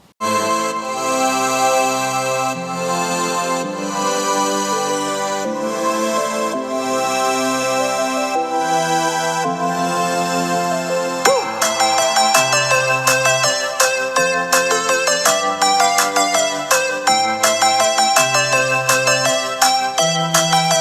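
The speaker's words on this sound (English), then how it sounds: "a quick test of the speakers, I will put in some royalty-free music" Music plays steadily through iPad Pro speakers, a sustained melodic section giving way to a brighter, busier, rhythmic passage, fairly loud throughout.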